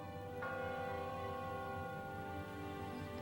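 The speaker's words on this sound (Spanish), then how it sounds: "cuando miraba esta campana de iglesia y apenas podía sentir su sonido" Church bell ringing with a sustained metallic tone and lingering overtones, one clear strike standing out early, heard at moderate distance and fairly faint with no voices.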